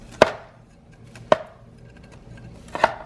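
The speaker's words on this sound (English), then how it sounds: "I have this little spatula that I'm going to use, and that is what I'm going to cut it with." Little spatula cutting through pouding chômeur made with pure maple syrup in a pan, three sharp separate knocks against the pan spaced about a second apart, close and clear in an otherwise quiet kitchen.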